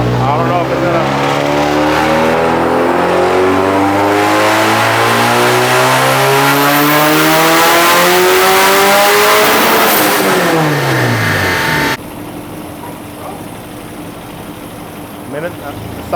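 Turbocharged Toyota 2AZ-FE four-cylinder engine on a dyno, revving steadily upward in one long loud pull with rising tone and turbo whine, then dropping abruptly to a lower idle-like drone near the end.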